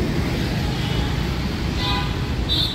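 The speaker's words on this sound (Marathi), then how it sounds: "थोडा गाड्यांचा आवाज पण आमच्या व्हिडिओमध्ये कॅप्चर झालेला आहे बोलता बोलता." Steady broadband roar of road traffic on the street below the Sayaji Hotel in Hinjewadi–Wakad, Pune, with vehicles passing continuously and two brief high horn toots near the end.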